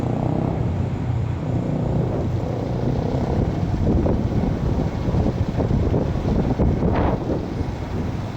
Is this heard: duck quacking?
no